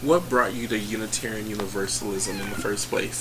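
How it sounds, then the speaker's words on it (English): A house cat meows repeatedly in a high, wavering voice close to the microphone while a person talks indoors over a low hum. "Sorry about my cat."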